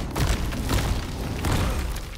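A pipe bomb goes off in the video game No Rest For The Wicked, a dense, loud rumbling boom that swells repeatedly over a couple of seconds with no pause.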